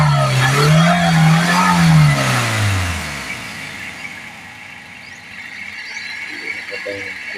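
A Toyota Corolla Altis with a fuel pump that gives no pressure revs up loudly in a rising and falling whine, then the engine note drops away and fades as it stalls, leaving a quiet hum.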